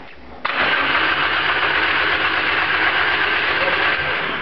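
A Nissan SR20 black top engine fires up for its first start, catching abruptly after a brief quiet moment and then running loud and steady with a dense mechanical roar close by.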